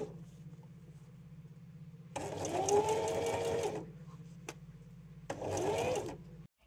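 A sewing machine stitches a corset in two bursts of steady mechanical whirring with a rising pitch, separated by a short pause, close and clear over a low constant background hum.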